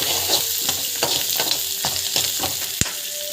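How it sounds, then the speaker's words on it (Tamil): Food sautéing in a pan with asafoetida, a steady sizzle broken by regular scraping strokes of a spatula and one sharp clack near the end, no talking. "ஸோ பெருங்காயம் வந்து ஆட் பண்ணிக்கலாம். ஸோ நல்லா வந்து வதக்கிக்கோங்க."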